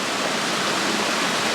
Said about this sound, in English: Here's Lost Creek.